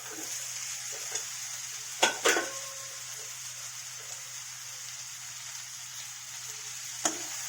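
Chopped potato and capsicum fry on a low flame in a pan for a vegetable curry, a soft continuous sizzle broken by a few sharp knocks of stirring, with no voices.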